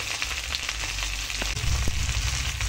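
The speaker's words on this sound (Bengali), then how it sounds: "সামান্য নাড়াচাড়া করে ভেজে নেব।" Pumpkin and potato pieces frying in a pan with salt and turmeric after the tempering, a constant dense sizzle close by with a few soft stirring knocks, no voices.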